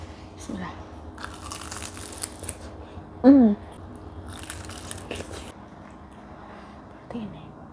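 Crunchy fried Indonesian gorengan snack being bitten and chewed, giving soft scattered crunches with a brief louder moment midway, amid quiet background voices and room noise.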